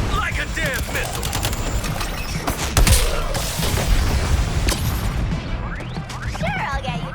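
Beam weapon fire and artillery blasts in Suicide Squad: Kill the Justice League on PS5, a loud, dense barrage of booming shots, rapid gunfire and crashing impacts, with voices shouting over the battle.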